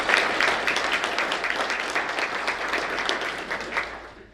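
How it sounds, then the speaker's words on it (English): An audience at a general membership meeting gives a short round of applause for Chief Mattis, with dense clapping that fades out after about four seconds. "I do want a round of applause for Chief Mattis"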